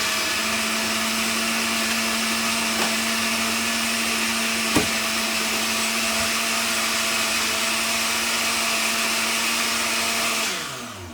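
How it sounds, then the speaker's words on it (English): A countertop blender runs steadily and loudly, whirring through green tea smoothie ingredients with a constant motor drone and a brief knock partway through, then winds down at the end. "we're going to blend this up first"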